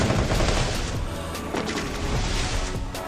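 AWM sniper rifle fire in a video game: loud, dense gunfire and booming impacts over a constant roar of game sound, several sharp shots spread across a few seconds.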